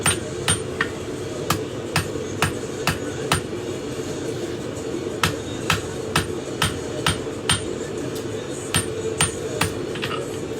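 Sharp metallic hammer blows ring out while a BBQ fork is hand forged, about twenty distinct strikes at an irregular working rhythm, loud and close, with short pauses between bursts over a low background hum.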